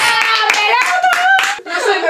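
Hands clap loudly and close, with applause running throughout under bright, sustained voices that carry over the clapping.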